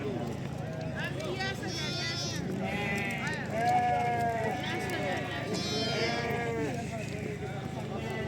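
Sheep bleat repeatedly at a livestock market in Barda, Azerbaijan, with several overlapping calls near and farther off over a busy background of market chatter and faint hoof clatter.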